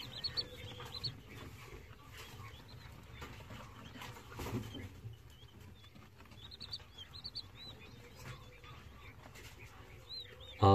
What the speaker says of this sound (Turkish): Üşüyen Çin bıldırcınları iri olan civcivin altına kurt tavuk misali girmişler